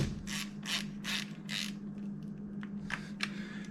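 A hand ratchet snugs down the valve cover nuts on a 2006 Toyota RAV4 with a 2.4L engine, four quick clicking bursts followed by softer scattered clicks, close and clear over a low steady hum.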